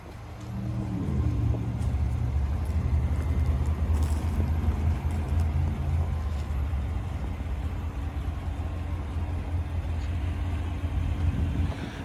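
A 2020 GMC Yukon Denali 2WD with a 6.2-liter V8 and 10-speed automatic pulls away, engine rumble rising and then holding as a steady low drone with road noise, heard from inside the cabin without talk.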